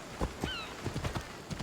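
Horse hooves clip-clopping in the video game Assassin's Creed Odyssey, several quick, quiet hoofbeats in an uneven trot with a short whinny-like tonal cry partway through.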